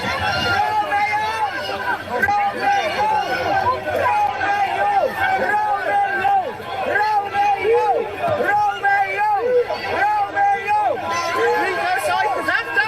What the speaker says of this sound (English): the crowd is just shouting them back into that van. They're just screaming at them.